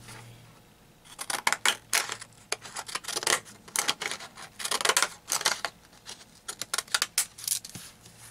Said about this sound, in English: I would take this and just kind of cut around the paper